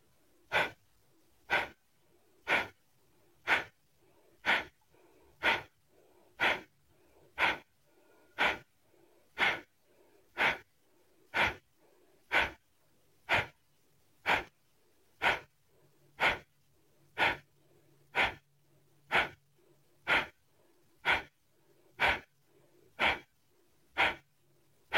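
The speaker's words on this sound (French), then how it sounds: "nous allons réaliser cet exercice avec Kapalabhati, la respiration que nous avons réalisée tout à l'heure quand nous avons commencé la séance" Kapalabhati yoga breathing, a steady train of about two dozen sharp, forceful nasal exhalations roughly one per second, close and loud with silence between each.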